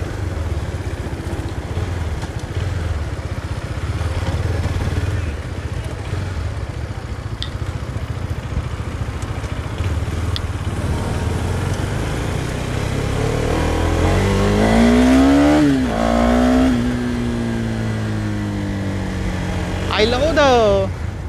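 Husqvarna Vitpilen 250 motorcycle engine while riding: a steady, loud mid-pitched drone with wind noise that climbs in revs through several gear pulls toward the end.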